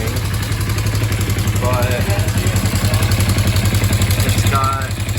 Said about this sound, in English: I put it back on and now it runs. So I mean, it's running,